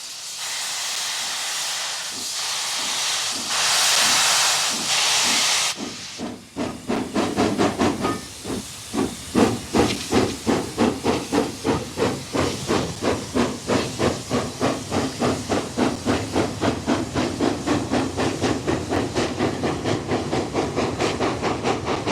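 A loud burst of steam hisses, then New Zealand J-class streamliner steam locomotive No. 1211 chuffs in a steady, quickening rhythm of exhaust beats, close and powerful.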